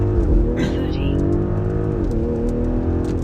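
A car with a 034 Motorsport Stage 1 tune launches on a wet road with some wheelspin. Its engine is a loud, close drone that shifts in pitch as the tyres scrabble for grip.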